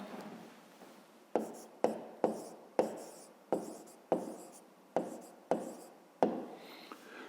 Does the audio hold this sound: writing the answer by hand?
yes